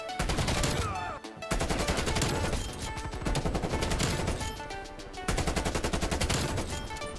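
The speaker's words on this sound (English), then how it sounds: "the Krig just shoots so straight, like you cannot miss a bullet on anybody" The Krig rifle fires in Call of Duty Cold War in loud, sustained automatic bursts, with rapid shots broken by short pauses between strings.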